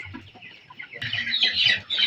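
Chickens at a poultry slaughterhouse and dealer's shop in a village cluck close by. Several birds produce short, repeated clucks that grow louder and denser partway through.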